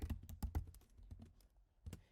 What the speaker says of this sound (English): I can send this person a message by just coming down here and typing